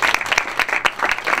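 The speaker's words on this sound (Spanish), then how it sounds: "les pido que recibamos con un aplauso a Luciano." An audience gives brief applause to welcome a speaker at a talk on television journalism, loud, close clapping with uneven bursts of individual claps over a short stretch.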